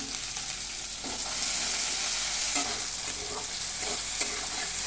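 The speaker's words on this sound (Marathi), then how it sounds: "मी जरा असं मोहरी टाकून घेते त्यानंतर जिरं घालते कढीपत्ता घालते" Mustard seeds, cumin and curry leaves crackle and sizzle in hot oil in a kadhai while making a village-style fresh pigeon pea amti, a steady close frying hiss with a few sharper pops and stirring, no talk.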